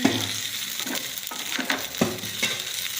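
Fish coated in rice flour and fish masala frying in a pan: a steady, loud, close sizzle with a few soft stirring scrapes and utensil knocks, and no talk.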